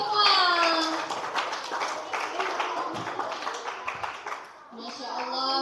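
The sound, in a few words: children and audience clapping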